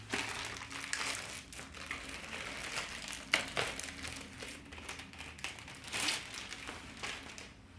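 Plastic wrapping crinkles and rustles as it is pulled off a reusable catalyst ozone-removal filter for an Airdog X3 air purifier, in irregular close crackling bursts with a few sharper crackles and no talk.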